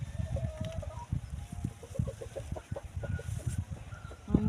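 A chicken clucks repeatedly in a farmyard behind a coop, short rhythmic calls over steady background noise, with no speech.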